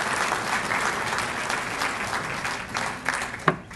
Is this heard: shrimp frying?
no